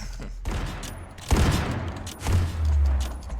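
Sniper rifle shots fire in the mobile shooter game Sniper Arena, with a sharp blast followed by rumbling booms and crackling gunfire from the game, loud and close, in a few bursts.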